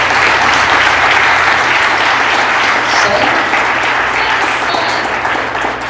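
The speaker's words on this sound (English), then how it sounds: "Give them a big round of applause." A crowd at an event applauds loudly and steadily, a thick, close roar of many hands clapping that carries through and fades slightly at the end.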